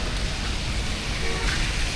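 Heavy monsoon rain falls in Mumbai with the first downpour of the season, a dense, steady hiss of water close by, alone and unbroken.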